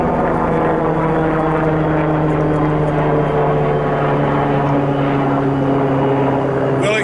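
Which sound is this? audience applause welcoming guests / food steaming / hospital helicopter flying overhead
hospital helicopter flying overhead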